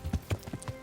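Horse hooves clip-clopping in the medieval game Kingdom Come: Deliverance, a short run of four or five soft, even hoofbeats, close and fairly quiet.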